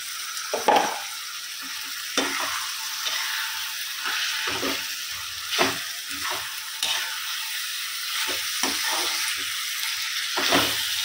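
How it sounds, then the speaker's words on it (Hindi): Peeled peas are stirred into a frying tomato masala with a spoon, making repeated scraping, clattering strokes over a constant oily sizzle, close up and with no voices. "थोड़ा सा इसको चला लेते हैं और इसी के साथ हम डाल देंगे इसमें छिली हुई अपनी मटर"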